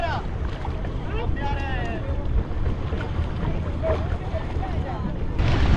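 A boat rocking on sea waves off Thinadhoo in the Maldives. Water sloshes and a low rumble run throughout, with gusty wind buffeting the microphone and people talking over it.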